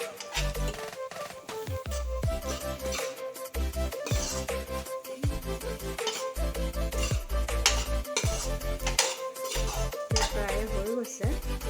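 A spoon scrapes and clinks steadily against a cooking pan while egg and tomato curry with three packets of Maggi masala, salt and turmeric is mixed, a rhythmic metallic stirring with light sizzling underneath.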